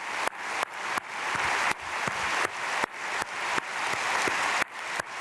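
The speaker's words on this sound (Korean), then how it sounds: "하나님께 영광의 박수 올려드립니다." A church congregation at an early-morning prayer service claps together in a steady wash of applause, broken by sharp, regular clicks and dips in level throughout, with no voices on top.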